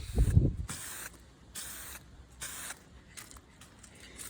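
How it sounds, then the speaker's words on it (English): Aerosol spray bursts of Eastwood Extreme Chassis Black top coat going onto Mercedes 107 SL steering parts, several short hissing sprays in a steady rhythm with brief pauses, close and fairly quiet. "now we're just going to top coat them with some Eastwood Extreme Chassis Black"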